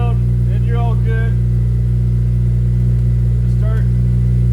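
An 8th gen Honda Civic Si engine runs loud and steady from close by, a constant low drone with little change, while a voice speaks briefly over it.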